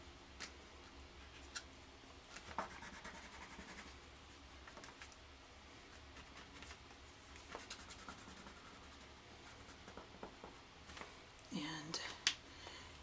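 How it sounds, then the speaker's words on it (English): A Pitt pen is drawn over colored pencil on paper, making faint, scattered scratchy strokes and small ticks against a quiet room hush. "actually just going to use that Pitt pen over colored pencil technique here"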